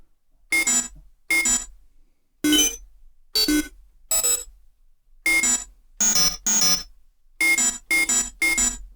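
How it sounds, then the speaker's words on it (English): Synthesized sci-fi user interface error beep made in the Massive synth: an aggressive, harsh tone sounding in a run of about twelve short bursts in uneven groups, loud and clean with silent gaps between. "That should get us a pretty decent beep, aggressive kind of error sound in Sci-Fi user interface stuff."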